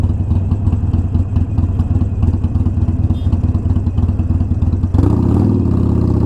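A Harley-Davidson Iron 883 fitted with a Vance & Hines exhaust idles close by with a loud, loping, uneven chug, then the engine note shifts briefly near the end.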